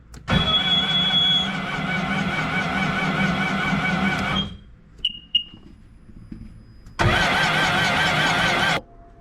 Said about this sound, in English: I want to know why this engine is spinning over so slowly without plugs